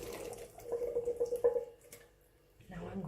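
Canned food and its liquid poured into a cooking pot, giving a close, wet glugging and splashing that builds for about a second, then trails off into quiet kitchen background.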